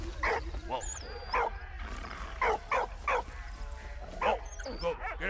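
A dog in the video game Valiant Hearts barks and yips in short repeated bursts, with whimpering cries between them, set against a low steady game background hum.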